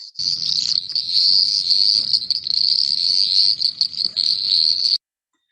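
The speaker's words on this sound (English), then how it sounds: "the first one is the chorusing behavior, where more than 2 individuals were participating in the chorusing" Dense, continuous high-pitched trilling from several crickets calling together, steady and fairly close, stopping abruptly at the end.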